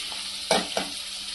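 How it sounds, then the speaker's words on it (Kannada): Cluster beans frying in oil with fenugreek leaves produce a quiet sizzle, broken by two quick stirring scrapes close together. "ಮೆಂತೆ ಸೊಪ್ಪಲ್ಲೇ ಎಣ್ಣೆಯಲ್ಲೇ ಕರಿತಾ ಇದ್ದೀನಿ ನಾನು"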